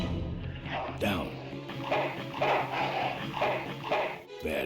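A dog in the video game Full Throttle Remastered barks and whimpers in a few short yelps, mixed with game speech and background sounds at moderate loudness.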